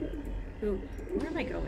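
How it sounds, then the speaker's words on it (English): Pet pigeon cooing softly in the background, a few low coos mixed in behind someone talking over game sounds. "if you hear the cooing in the background, it's my pet pigeon"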